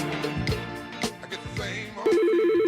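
A telephone rings in an advertisement for a business phone system, a warbling electronic ring that starts near the end over background music.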